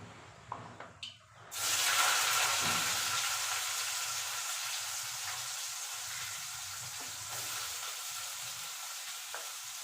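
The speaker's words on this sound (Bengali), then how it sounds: "তেল গরম হয়ে গেছে আমি উচ্ছেটা আগে ভেজে নেব" Bitter gourd hits hot oil in a wok with a sudden loud, steady sizzle that holds for several seconds after a few brief clatters of handling, with no talking.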